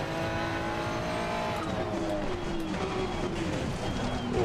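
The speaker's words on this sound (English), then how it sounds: "Oh, that's late braking." Race car in a video game braking late into a corner with tires squealing, engine noise loud and continuous, rising tonal squeal sweeps over steady roar for a few seconds.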